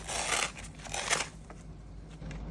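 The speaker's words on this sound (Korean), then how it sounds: "자, 이제 포장을 제거하고" Plastic packaging being pulled off a Yukgaejang Sabalmyeon instant ramen cup, heard as close, crinkly rustling in a few bursts with no talking.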